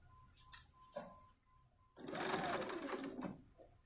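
A sewing machine stitches a seam on a small doll skirt, a close, steady whirring run of about two seconds after a few soft clicks and handling sounds.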